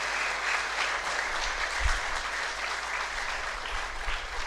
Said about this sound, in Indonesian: Saya ajak kita semua tepuk tangan panjang untuk bilang hormat, terima kasih Tuhan